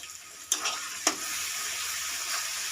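Sliced onions and a large tomato sizzle in hot oil for a chicken kosha, a steady bright hiss broken by two sharp clunks of a utensil against the pan early on.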